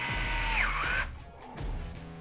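A power driver fitted with a 3 mm hex bit whirs briefly while screws are reinstalled on an Arrma Kraton 8S RC car shock. It gives a one-second buzzing run, a short pause, then a second quick spin.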